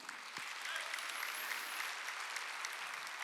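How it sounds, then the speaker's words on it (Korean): Steady, dense applause from a church congregation at a Wednesday worship service, many hands clapping together in a continuous wash of sound at moderate distance. "믿으면 박수 치라"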